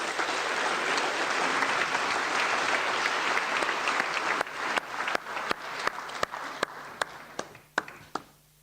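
Applause from a conference audience at the World Food Forum after a speech, a full wash of clapping for about four seconds that thins into scattered individual claps before fading out.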